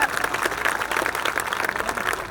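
An audience at a community fundraising gathering in Gujarat claps steadily. The applause is dense and sustained, with no voices standing out.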